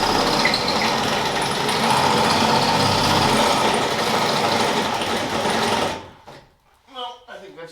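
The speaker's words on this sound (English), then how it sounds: "No, I think that's the drill dying." A cordless electric drill whines and grinds steadily on a Dodge rear suspension job, its battery dying, the motor running loud and close for about six seconds before cutting out, then someone speaks.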